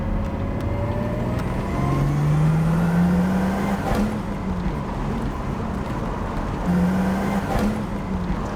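A turbocharged car cruising at low RPM gives a steady engine drone, loud and continuous from inside the cabin, with gentle pitch rises as it pulls along.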